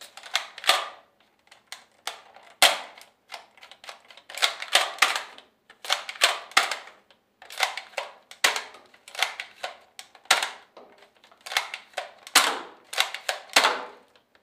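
Nerf Strongarm foam blaster fired over and over, each shot a sharp, close mechanical snap-and-thump spaced irregularly about a second apart, with quiet gaps between bursts and no voices.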